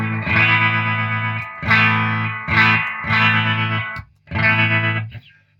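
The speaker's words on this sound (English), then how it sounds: "if I want to have the reverb and the tremolo, I can have it just by pushing my foot switch" A Vox Defiant guitar amplifier plays sustained distorted chords with reverb and tremolo, five loud strummed phrases separated by brief gaps, close and without talk.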